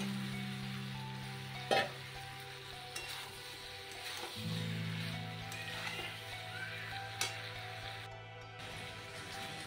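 Whole spices are sautéed in oil for a prawn and taro curry, giving a low, steady sizzle with a few sharp utensil knocks and faint stirring scrapes throughout.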